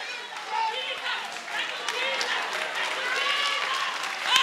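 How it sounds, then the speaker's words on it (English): A church congregation clapping amid loud, excited worship, with dense hand claps running continuously beneath shouting voices. "Are you clapping?"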